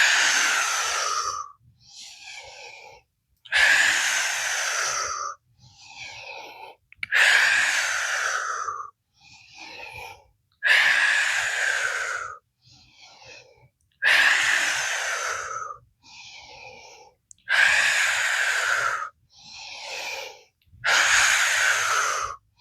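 Deep yoga breathing, with repeated cycles of a long inhale followed by a forceful blow out, about eight rounds in a steady rhythm, loud and close, with short quiet gaps between breaths.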